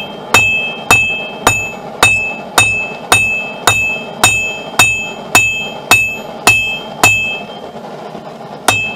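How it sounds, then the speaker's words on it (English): Heavy hammer blows strike hot steel being forged into a knife in a slow, regular rhythm, about a dozen ringing impacts spaced under a second apart, each leaving a short metallic ring. "I used a larger hammer because of the larger surface area, it hides the hammer blows better"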